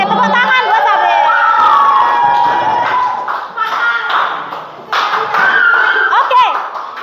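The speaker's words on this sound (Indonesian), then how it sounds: "Oke, tepuk tangan buat Sabil." Schoolchildren in a classroom cheer and shout together in a loud, continuous burst, with some clapping mixed in under their raised voices for several seconds.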